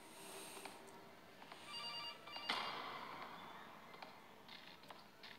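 A telephone rings inside the horror video game CASE: Animatronics, a faint electronic ringing buried in a dark, hissing ambient background, with soft ticks and a brief swell near the middle.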